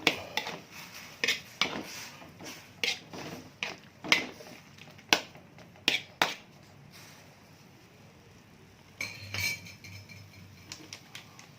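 Utensil stirring instant noodles with tomato and chicken in a pan, a series of sharp metallic clinks and scrapes in an irregular rhythm, close and fairly quiet, with a pause before a final few strokes.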